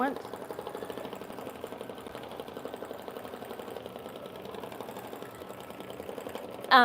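A home embroidery sewing machine stitches a quilt held in a hoop, a fast, steady mechanical chatter running evenly for several seconds, ending with a brief louder clunk.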